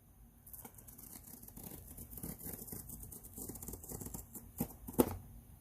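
Plastic blind box toy packaging, a 52 Toys Gumon Fairy Garden figure, torn open by hand indoors: close crinkly rustling and ripping throughout, ending with a sharper snap of tearing near the close.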